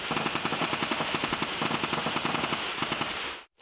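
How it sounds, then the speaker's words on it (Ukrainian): Militants' gunfire at night rattles in rapid automatic bursts, a loud, steady string of shots that runs for several seconds before cutting off abruptly. "Ближче до півночі стрілянина бойовиків нагадує музику."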